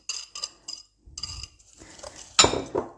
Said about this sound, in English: So I'm going to mix that in with my eggs and my lemon